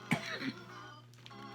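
A person with phlegm gives a short, close cough with a throaty catch, followed by a quieter rasp, against a low steady hum.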